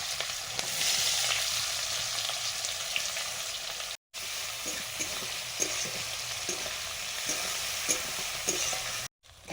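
Small mixed river fish fry with chopped onion and five-spice in a pan, giving a continuous close crackling sizzle broken by soft stirring knocks, with two brief dropouts to silence.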